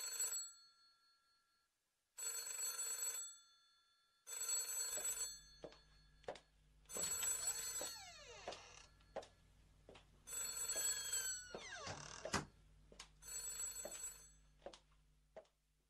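Old-style telephone bell ringing as an audio-drama sound effect, loud repeated ring bursts about two seconds apart, with a low hum and sliding tones joining under the later rings.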